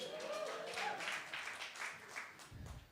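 Audience applause rises at a talk, dense and continuous but fairly faint and distant, tapering near the end as a low rumble enters.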